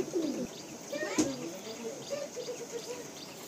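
Madrasi pigeons coo softly in a loft in Kolkata, low throaty calls overlapping in a steady murmur with a brief rustle partway through.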